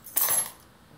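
House keys are handled close by, a short bright metallic jingle and clink that rises sharply, rings briefly and fades within half a second, alone and fairly quiet.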